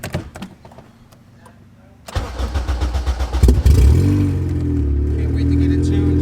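A car engine cranks with a rapid rhythmic churning, catches and revs up loudly, then drops into a steady, close idle.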